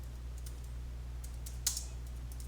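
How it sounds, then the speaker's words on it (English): A command is typed on a computer keyboard in quick, quiet clicks, with one slightly louder keystroke, over a steady low background hum. "Now let's type heroku create."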